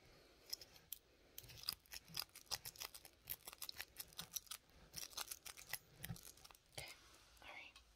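Scissors snip through hair in close, quiet bursts of crisp clicks, steady and rhythmic, with soft whispering in between.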